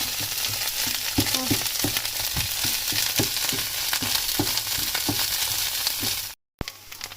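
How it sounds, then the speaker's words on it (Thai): Mushrooms stir-frying in butter in a pan give a steady, loud sizzle with scraping stirs throughout, cutting out briefly near the end. "ใส่เนยแล้วก็คั่วไปเรื่อยๆแบบนี้นะคะทุกคน"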